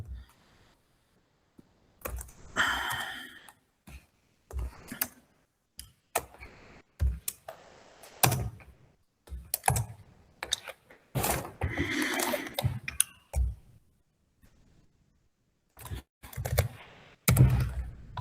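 Bursts of close computer-keyboard typing while entering C++ code, uneven clusters of clicks separated by short quiet pauses, with no talking.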